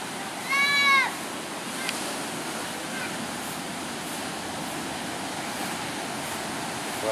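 Ocean waves at Nguyahan beach on the south coast of Java, a steady broadband roar of surf rolling continuously, with a brief high cry early on.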